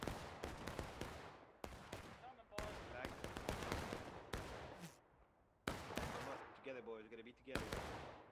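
Civil War-era rifles crack in War of Rights, Peninsula Campaign battle, with many sharp loud shots fired in irregular bursts and volleys at varying distances, and shouting voices briefly mixed in.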